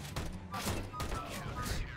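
CZ75 and TEC-9 pistols fire in CS:GO, with sharp rapid bursts of gunfire in a few clusters and a player talking between the shots.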